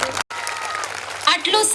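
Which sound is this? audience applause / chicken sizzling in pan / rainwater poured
audience applause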